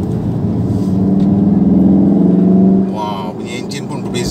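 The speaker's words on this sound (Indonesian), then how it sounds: "saya tukar dia jadi race mode. You boleh dengar bila tukar race mode tu." A Volkswagen Golf R engine switched from eco to race mode hums close and loud, swelling to a stronger drone before easing off near the end, with someone talking over it.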